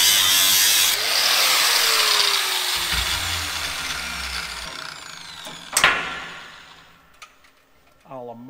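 A grinding power tool sharpening on a farm, whining loudly and steadily at close range, then slowing and winding down, with a sharp metallic clank midway and a short voice near the end.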